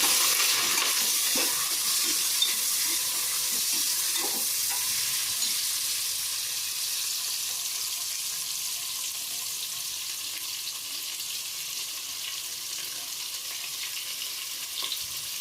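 Chopped onions sizzle steadily in hot oil as they are stirred for a vegetable biryani, a continuous close frying hiss with occasional scrape and stir sounds and no talk.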